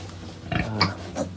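A sow on a backyard farm in the provinces gives a few short, low grunts in quick succession. They are close and fairly clear over a faint steady hum in the background.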